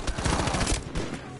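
Rapid gunfire crackles in a Battlefield V match, a burst of closely spaced, loud shots over about a second that then thin out into a noisy tail.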